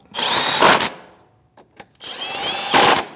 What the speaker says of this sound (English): Take your little self-tapping screws, start them in place. 7 millimeter socket, snug them up.